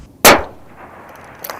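A single sharp, loud sniper rifle shot fired at a Taliban target in Sangin, Afghanistan, a sudden blast that rings out and decays into a quieter tail, with faint distant clatter near the end.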